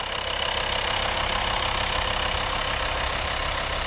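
A 2.5 litre TDI diesel engine in a VW Transporter T5 idles steadily and close by, a continuous rumbling drone with a constant, unchanging level throughout.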